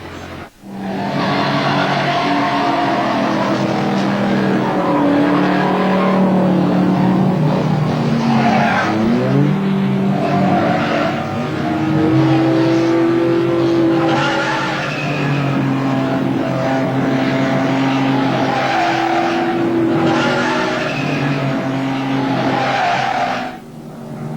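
Cartoon race cars roar along a track in a continuous, loud engine drone, with rising and falling revving tones and occasional tire squeals, while a commentator's voice runs over the racing noise.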